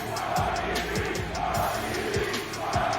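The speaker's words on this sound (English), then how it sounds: "And what an unbelievable reception from this crowd in Texas" A Texas crowd at a Call of Duty League esports event roars and cheers in waves, loud and sustained with whoops and shouts.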